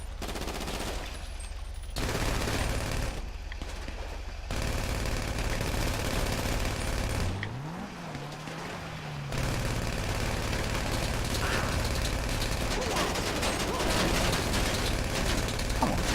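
Rapid automatic gunfire bursts in Grand Theft Auto's Doomsday Heist, loud sustained fusillades with mechanical clatter and engine rumble, broken by a brief lull before the shooting resumes.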